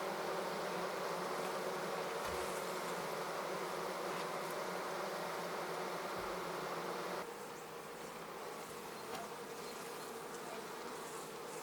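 Honeybees at an open hive fill the air with a dense, continuous buzzing swarm, steady and close with no voices, dropping slightly in level partway through.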